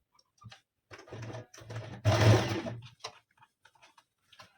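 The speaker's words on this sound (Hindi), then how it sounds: "इस तरह से इसको खींच खींच के पूरा प्रॉपर हम सिलते चले जाएंगे" Sewing machine stitching a heavy-size palazzo, running in a few short bursts with one longer, louder run in the middle, close up and without talk.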